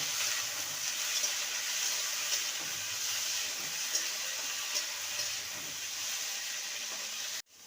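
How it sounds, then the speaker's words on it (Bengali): Yardlong beans frying in a pan with a little salt give a steady, close sizzling hiss that holds evenly throughout and stops abruptly at the end, with no talking. "বরবটির অনুপাতে সামান্য লবণ দেব বরবটিটাকে ভালো করে ভেজে নেব"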